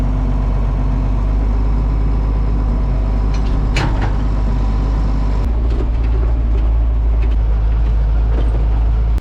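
A vehicle towing a trailer idles and rumbles loudly and steadily as it is parked on a hillside on a small dairy farm, with a few faint clicks partway through before the engine note drops.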